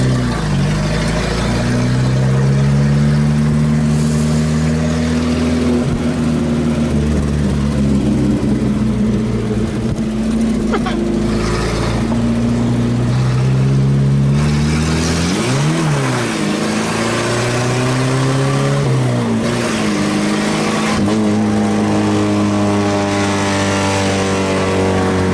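An old Chevrolet Opala on a street at night revs repeatedly, its loud engine note climbing and falling in a series of throttle blips over a steady idle, close by, with no talking.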